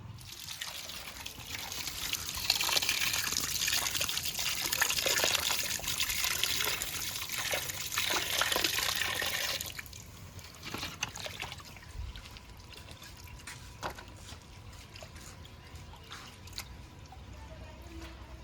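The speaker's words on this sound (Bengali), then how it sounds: "মাছগুলো জল দিয়ে ভালো করে ধুয়ে নিয়েছি" Water pours and splashes over freshly cut fish for a mustard fish recipe. A steady rushing flow runs for about ten seconds, then gives way to quieter dripping and trickling.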